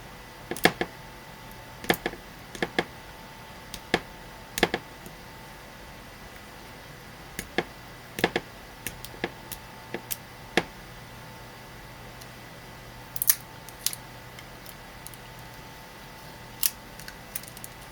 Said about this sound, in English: So what I'm doing now is I'm just removing tape.